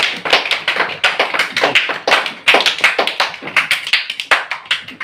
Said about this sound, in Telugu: క్లాప్స్ కొట్టండి అమ్మా